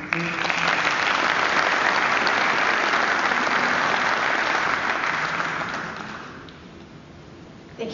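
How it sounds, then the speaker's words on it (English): Conference audience gives a big round of applause, a dense sustained wash of clapping that holds steady for about six seconds then fades quickly to quiet. "Let's give him a big round of applause."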